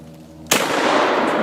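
A Turkish shotgun fires a single loud blast at a propane tank, a sharp close-range report that cuts through a low steady hum and leaves a long broadband roar trailing behind it.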